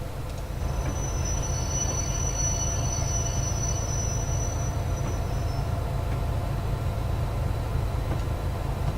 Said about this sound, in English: Oh, he's a freight train.